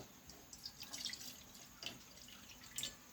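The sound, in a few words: water poured into a bowl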